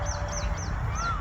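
Peacocks call in the Dehuroad forest, four short rising cries in a steady rhythm, moderately near, over a low rumbling background.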